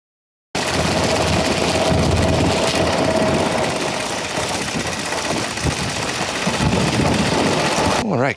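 Engines idle steadily at a motorcycle show, a continuous mid-level rumble with background crowd noise throughout.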